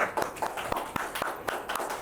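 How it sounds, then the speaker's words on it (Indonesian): A small group clapping, a handful of sharp, uneven claps close by over a low background. "tepuk tangan dulu dok."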